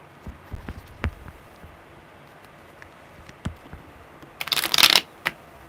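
Sparse soft taps and clicks give way to a brief riffling burst of tarot cards shuffled near the end, followed by one last snap.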